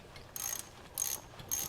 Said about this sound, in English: Just using an 8mm socket, we just reattach the shift linkage